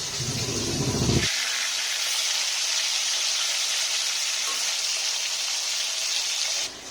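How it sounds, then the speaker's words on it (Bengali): A fish fried with ginger and garlic sizzles in a pan, a continuous bright hiss that dominates after a short stretch of low clatter at the start. "এবার এই মাছটা প্রায় ভাজা"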